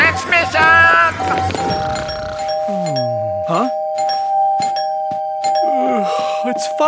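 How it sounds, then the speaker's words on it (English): A cartoon doorbell rings with a clear, sustained chime over other cartoon sound effects, with voices speaking around it. "Who's ringing the doorbell at this hour?"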